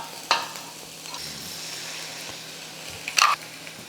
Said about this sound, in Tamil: இந்த முட்டையை உடச்சி ஊற்றிக்கலாம்.